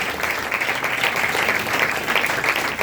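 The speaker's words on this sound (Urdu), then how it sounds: "زوردار تالیاں بجائیں خداوند کے جلال کے لیے" A church congregation at a Christmas service claps loudly and steadily, a dense continuous round of applause with no voices on top.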